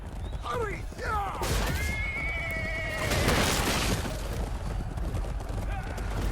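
Horse neighing in the video game Chivalry 2, several shrill descending whinnies in quick succession over a loud clatter of battle noise, with a player talking over the game sounds.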